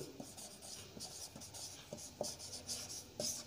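Writing on a board during a physics lesson, a steady faint scratching with short taps and strokes repeating under quiet room tone, and no talking.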